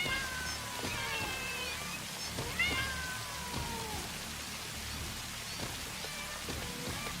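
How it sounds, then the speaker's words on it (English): Several cats meow and yowl in a cluster in the game Satisfactory, their high, sliding cries overlapping against a steady patter like rain, fairly close, with no talk. "a horde of cats bum rushes you"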